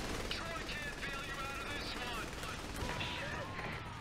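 Rapid gunfire in the Saints Row: The Third video game, with dense sustained bursts and shots running through the whole stretch while voices talk over the shooting.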